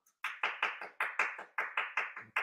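Around a dozen sharp, evenly spaced claps ring out in a quick rhythm, crisp and isolated against silence, sounding like a few hands clapping near the microphone rather than a large crowd.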